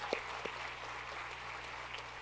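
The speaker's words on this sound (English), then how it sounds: "Let's give them a round of applause from the Emory Women's Club." Faint applause rises from a commencement ceremony audience as women's club award recipients are honored, light scattered clapping over a low steady hum, with a couple of sharper claps near the start.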